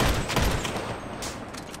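Rapid video-game gunfire in Grand Theft Auto V, a dense burst of shots close up across the short moment, with no talk over it.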